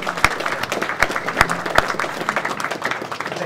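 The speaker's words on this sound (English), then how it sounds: "massive round of applause, give a round of applause." A press-conference audience gives a short round of applause, with a few loud individual claps standing out near the front of the dense clapping.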